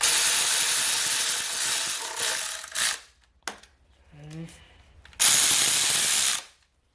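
A ratchet snugs 12mm bolts on an LS 5.3 short block, giving bursts of quick clicking from close by, then a short pause with a few faint metallic knocks before one more loud ratcheting run.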